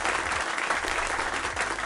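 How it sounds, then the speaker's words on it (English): An audience claps loudly and steadily, a dense burst of applause filling the whole moment. "Give him a round of applause."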